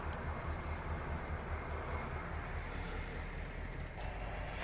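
BNSF coal train diesel locomotives idle a short distance away behind a house, giving off a faint, steady low rumble with a slight pulsing hum, distant and continuous, with no one talking.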